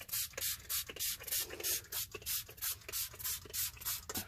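Hair spray is sprayed onto a full head of hair in repeated short bursts, about a dozen hissing puffs in steady rhythm, close and fairly loud.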